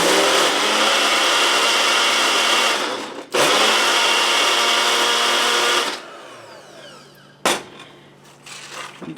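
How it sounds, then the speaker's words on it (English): A kitchen blender whirs loudly while blending a protein smoothie of juice and strawberries, running steadily, stopping briefly, restarting, then winding down and giving a final short pulse. "probably going to need a little bit more juice in there to get that to blend properly"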